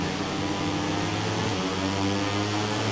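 A Moto3 racing motorcycle engine in a motorbike racing game at Valencia, a dense steady buzzing drone held on the throttle, loud and continuous for a few seconds.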